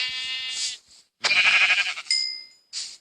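Sheep bleating in Minecraft Pocket Edition, two loud, close bleats split by a short gap, followed by a brief chime and one more burst, with no speech.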